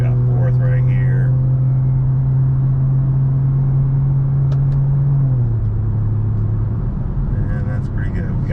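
Car engine holding a steady, loud drone, then dropping in pitch as it shifts up a gear, with a person talking over the cabin rumble.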